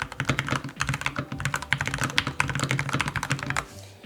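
Rapid, steady typing on a WhatGeek Dukharo VN96 mechanical keyboard, dense clicky keystrokes close up, continuing without pause before trailing off at the end.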